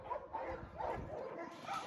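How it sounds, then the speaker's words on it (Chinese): Rescued stray dogs at a mountain shelter housing over 220 dogs give a few faint, short barks and yips amid low background noise. "我现在给大家看狗狗，把镜头让给我们家园的狗狗。"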